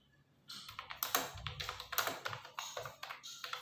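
Steady, close keystrokes tap out text on a computer keyboard in quick irregular bursts, with no voices.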